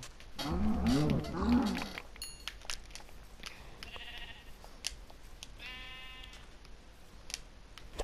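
A cow in Minecraft lets out two low moos close up, followed by fainter animal bleats in the game world with no talking.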